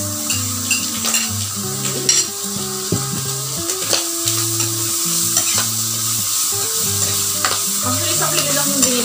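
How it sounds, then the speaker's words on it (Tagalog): Mussels and onion sauté in a hot pan, with steady sizzling and frying close by, and a utensil scrapes and stirs against the pan throughout. A low musical background runs underneath and no one speaks. "ilagay na natin yung sibuyas. Ayan. Yeah. Tapos, ilagay na natin ang tahong."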